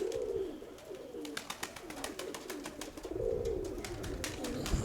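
Pigeons coo in low, throaty rolls close by in a loft, two bouts separated by a stretch of fluttering and soft tapping.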